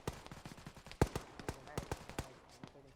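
Bursts of machine gun fire in Arma, sharp cracks in an irregular sequence of single shots and short volleys at moderate distance, mixed with nearby chatter over the gunfire.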